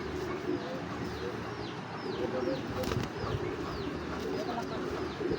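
Racing pigeons at a farm loft, with soft repeated cooing and some wing flapping over a busy ambient hum, moderately near, with no clear talk.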